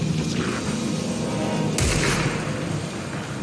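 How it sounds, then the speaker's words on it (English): A gunshot in a horror video game, a single loud boom rising sharply out of a dense, constant rumble of game ambience, with no talking. "I heard a gunshot"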